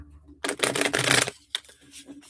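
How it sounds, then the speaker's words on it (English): A deck of reading cards is riffle-shuffled up close in one quick rattling burst, followed by a few soft taps and light handling noises. "All right, one more shuffle."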